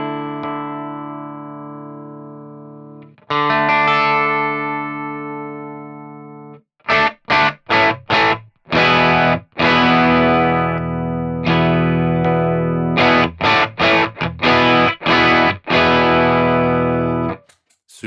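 Overdrive pedal powered at 18 volts with its gain set low for a nearly clean tone, played on guitar: a held chord that rings, then a new chord, then rhythmic choppy strummed stabs. Loud and up front, with no talking.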